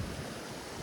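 Floodwater surging through a village river, a dense continuous rush with no breaks, steady and moderately loud.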